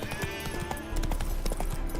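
Roach the horse in The Witcher 3 trots along with a brisk, steady clip-clop of hooves, close and clear against a faint low rumble, with no talking.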